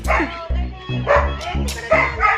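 A Doberman Pinscher barks repeatedly in quick, close yips, mixed with faint whimpering and some voices in the background.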